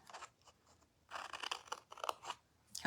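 Scissors snipping points on Stampin' Up! Christmas card ephemera, a series of quiet close crisp cuts and crunches, in irregular bursts with short pauses between them.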